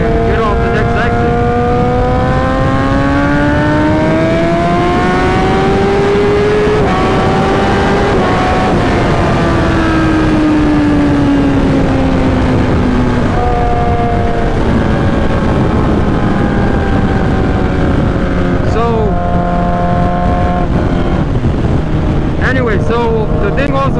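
A 2008 Suzuki GSX-R 1000 with a straight-pipe exhaust being ridden on the road; its engine tone rises and falls through gear changes under heavy wind rush, while a rider talks over it.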